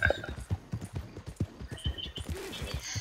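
Horse hooves from the video game Red Dead Redemption clop in an uneven rhythm at moderate volume, with some faint background noise.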